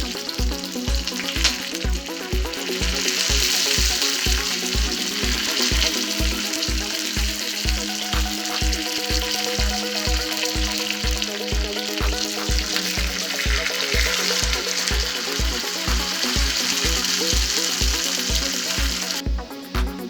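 Tempering seeds, dried red chillies and curry leaves sizzle in hot oil in a pan on the stove, a loud, dense, continuous crackle up close over a steady rhythmic low pulse, with no talking.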